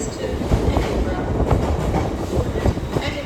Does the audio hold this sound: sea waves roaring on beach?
no